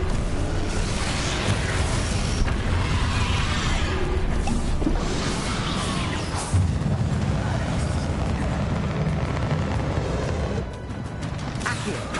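Spell explosions and combat blasts in a Harry Potter video game, with loud bursts, crashes and rumbling impacts piling up continuously against a dense, noisy battle mix.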